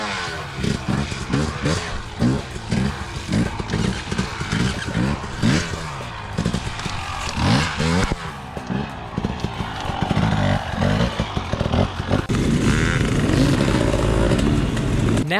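An off-road dirt bike revs hard during a wheelie, its engine rising and falling in repeated throttle bursts close by, ending in a sustained high-revving drone.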